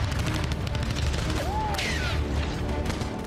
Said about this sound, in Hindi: रॉकेट लॉन्चर के साथ ही गोलियों की नॉनस्टॉप बौछार